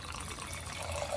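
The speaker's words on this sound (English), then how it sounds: "Going in and pouring." Wine pours in a steady, continuous splashing stream into a glass to aerate it, close and moderately loud with the liquid tone rising as the glass fills.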